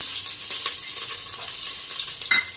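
Chopped onion frying in hot oil in a pot for avarekalu sambar, a close, steady hissing sizzle with a faint stir or scrape near the end and no talking.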